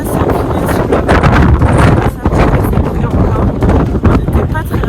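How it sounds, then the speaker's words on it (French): Strong wind buffets the microphone throughout, a loud, steady roar with rumbling gusts on an exposed cycling route in Patagonia between Rio Grande and El Chaltén. "Il y a un vent de malade."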